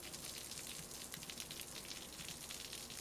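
Hail pelts down outside during a storm, a steady, dense rattling hiss of countless small impacts that runs evenly throughout without voices.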